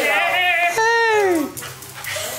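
A dog outdoors in the snow whimpers and whines nearby in drawn-out, high, wavering cries, loud and close, with a short yippy break.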